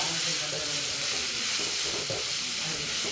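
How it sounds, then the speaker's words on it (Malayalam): Cooked, chopped conch meat stir-fried with salt for a Kerala-style conch thoran, giving a steady close sizzle with soft stirring scrapes throughout and no talk. "ഇനി ആവശ്യത്തിന് ഉപ്പ് ചേർത്ത് നമുക്കൊന്ന് വശക്കി കൊടുക്കാം."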